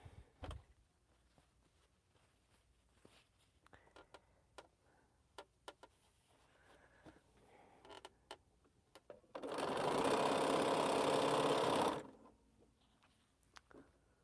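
Light ticks and clicks give way to a sewing machine running steadily for about two and a half seconds as quilt rows are stitched, then it stops and quiet clicks resume.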